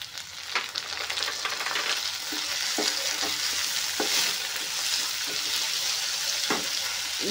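Chopped tomato sizzling and frying in a hot pan for pongal gotsu, with a steady crackling hiss broken by repeated scraping stirs of a spoon.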